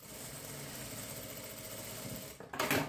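Sewing machine stitching along the fabric edge of a patchwork bag, a steady fast mechanical whirring hum for over two seconds, then stopping with a brief clatter and rustle.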